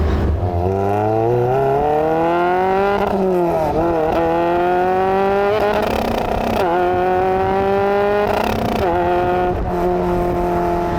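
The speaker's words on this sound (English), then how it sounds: "I know it sounded like I was bouncing into the rev limiter" A 1999 Lotus Elise Sport 160 engine held at high revs, the pitch bouncing and stuttering repeatedly against the rev limiter, with brief drops and climbs, no voices.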